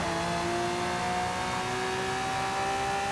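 A Lamborghini's engine at around 245 mph in Forza Horizon 5 holds a steady, high-pitched drone, smooth and unbroken, with no voices over it.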